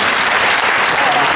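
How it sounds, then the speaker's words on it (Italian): Audience applause at a music festival in Potenza, a dense, steady wash of clapping from a large crowd that fills the whole short stretch at high level, with no talk over it. "possiamo farti ritornare dietro le quinte tra gli applausi del pubblico"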